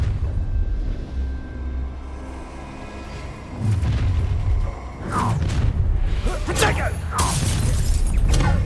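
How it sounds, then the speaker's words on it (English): A Bombarda spell explodes in the Hogwarts Legacy video game, sounding as a series of loud, heavy booms and crackling blasts over a steady rumbling backdrop. "That's the Bombarda."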